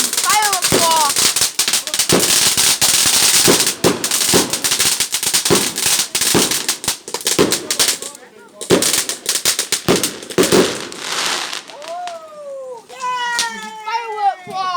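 Fireworks and firecrackers on bonfire night burst in rapid, loud cracks and pops throughout, with whistling rockets rising near the end, while a cat-like caterwaul and excited voices are heard among the bangs.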